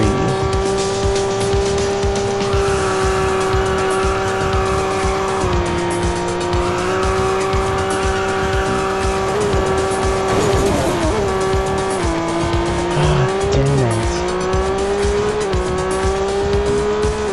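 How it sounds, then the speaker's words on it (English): A Porsche Boxster GTS in Real Racing 3 holds a long, continuous tire skid through a corner. Its engine drones steadily underneath while the squeal wavers in pitch, loud and close, with no talk. "it does have to be a continuous skid"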